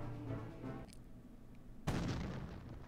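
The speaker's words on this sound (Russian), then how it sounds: "Салют они мне устроили" Fireworks salute bursts in the mobile game Dragons: Rise of Berk, a sharp booming blast near the end after a quieter stretch, with game music underneath.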